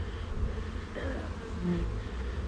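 Honeybees buzz on a beehive frame during a hive inspection, a dense, steady, close drone that continues without a break for the whole stretch.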